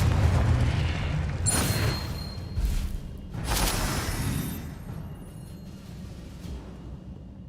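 Confringo blast spells detonate in the video game Hogwarts Legacy, heavy booming explosions over a rumbling battle din, a couple of loud hits early, then a fading roar.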